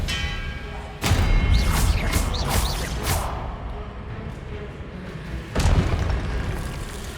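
Spell effects crash out in a fantasy wizard combat game as two sharp booming impacts a few seconds apart, each followed by bright ringing, whooshing shimmer and a sustained rumble, loud and close.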